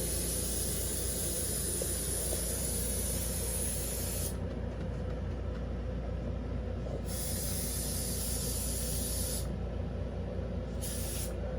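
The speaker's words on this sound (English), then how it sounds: "Just spray it out over the trash can." Steady aerosol alcohol spray hissing continuously, loud and close, with the high hiss briefly cutting out several times between bursts.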